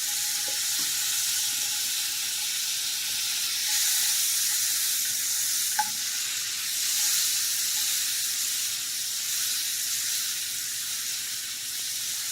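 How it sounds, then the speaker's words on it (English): Butter, half a stick, melts with apples in a skillet, giving a steady, fairly loud sizzle and hiss that runs throughout, with a brief clink partway through and no talking. "we're going to put in a half stick of butter, which is 4 tablespoons, and we're going to let it melt, and we're going to add these apples"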